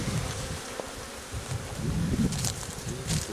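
Honeybees in a Spanish-style mixed Layens hive buzz steadily and close during a July honey harvest, a continuous low drone with some rustling and no talk over it.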